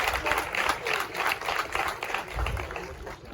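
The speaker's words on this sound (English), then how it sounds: "A round of applause." Applause from an audience at a ceremony in Ghana where educational items are donated to second-cycle schools, as dignitaries are introduced; a dense, steady wash of clapping in pulsing waves, moderately loud and continuing throughout.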